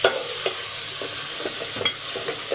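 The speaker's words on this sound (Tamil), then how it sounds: "இப்போ வெண்டைக்காவை மிக்ஸ் பண்ணி விட்டுக்கோங்க. இன்னும் நல்லா வதங்கணும்." Okra frying in a pan with tomato, stirred with regular scraping strokes over a constant loud sizzle, close by and with no voices.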